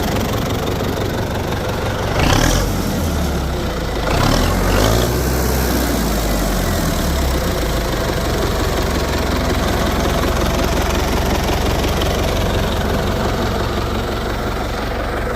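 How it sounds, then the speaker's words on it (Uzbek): A Belarus 82.1 tractor's diesel engine idles loud and close with a steady, knocking rumble, briefly swelling twice early on before settling into an even drone. "Traktorimiz ovozini ham eshitib ko'rdik"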